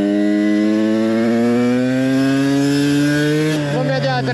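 A TM 125 supermoto's 125cc engine with stock exhaust hums steadily at close range while riding, with a rising, buzzy pitch, then briefly shifts gears and settles back near the end.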